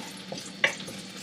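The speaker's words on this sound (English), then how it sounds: "stir fry a little bit" Shallot stir-fried in a pan, a short close burst of sizzle with a quick scrape or clink of the utensil partway through.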